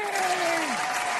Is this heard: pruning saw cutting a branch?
no